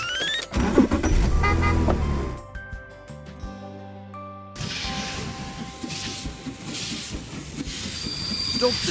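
A steam train in a mobile train racing game rumbles and clatters along the tracks with squealing wheels and synthetic game tones, then a brief musical jingle before the rolling rail noise resumes.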